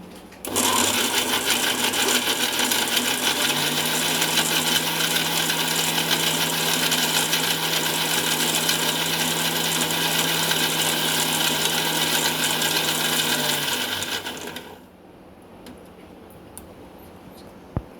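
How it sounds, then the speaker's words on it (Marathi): A kitchen mixer grinder blends soaked dates into a sweet chutney, its motor giving a loud, close, steady whirring drone for about fourteen seconds before it switches off and the sound drops to quiet. "भिजत घातला होता खजूर, तो मी आता बारीक करते मिक्सरला."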